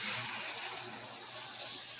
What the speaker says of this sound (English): you'll hear sprinklers hissing, faucets running, and showers turning on.